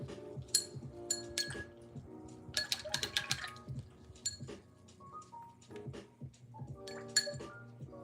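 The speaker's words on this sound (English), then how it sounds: "I'll rinse my brush." A paintbrush rinsed in a water jar for watercolor painting, clinking repeatedly against the glass in quick taps and rattles, close and clear with no talk.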